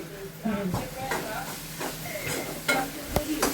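Onion, tomato, chilli and turmeric sizzle in hot tempering oil while a spoon stirs, with soft frying hiss and several sharp scraping clinks against the pan, faint voices in the background.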